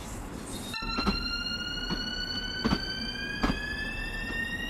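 A Talent2 electric train in the Train Sim World 2 game whines with high-pitched tones that hold steady, while rattly clunks sound at regular intervals over a constant running rumble.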